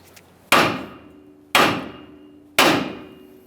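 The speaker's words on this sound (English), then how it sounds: "I'm going to lightly tap on this area with a hammer." A hammer strikes the steering knuckle of a 2015-2020 Ford F-150 three times at steady intervals, each blow a sharp, close metallic knock with a short ringing decay, no talk between them.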